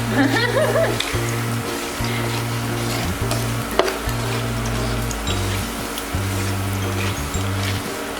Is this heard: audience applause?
no